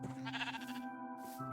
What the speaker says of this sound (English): Come on, sheep, follow me.